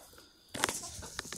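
Hens being fed potatoes and noodles give short bursts of clucking and wing flaps, a quick cluster of close, fairly faint calls after a quiet start.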